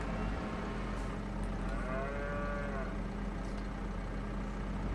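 A cow lets out one long moo inside a barn, heard mid-distance over a steady loud machine-like drone that persists throughout.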